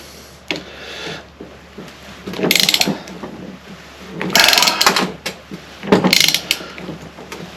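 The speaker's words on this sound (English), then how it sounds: "It's a bit of force to put this nut on, I tell you. And this is a big ass socket that I'm using." A large socket wrench tightens a nut on the starter of a 1935 Austin 7, producing three loud, rapid ratcheting bursts of a second or so each, close up, with brief pauses between them.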